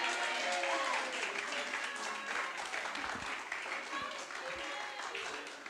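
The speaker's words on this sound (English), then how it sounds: "Give him a round of applause." A round of applause from an audience at a Pensacola Christian College presentation, continuous and fairly close, with voices cheering or calling out over the clapping.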